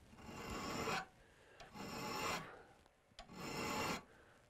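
Steady back-and-forth rasping of a metal file drawn along an ice tool's edge, three long even strokes with brief pauses between, close and alone.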